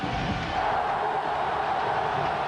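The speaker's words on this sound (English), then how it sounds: "The crowd trying to get into the game to support this defense." Crowd noise at a 2001 NFL football game between the Chicago Bears and Baltimore Ravens, a steady roar from a packed stadium cheering on the home defense, sustained and even with no single peaks.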